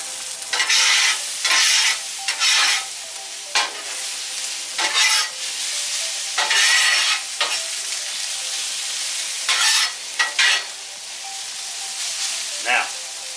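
Thin-sliced roast beef for Philly cheese steaks sizzles and hisses on a Blackstone 22-inch griddle, with repeated bursts of louder frying as a spatula stirs and turns the meat, close and fairly loud.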